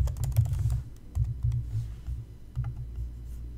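Someone types a short search into a computer keyboard, producing close, soft, quick keystroke taps in irregular bursts with brief pauses between them. No speech is heard.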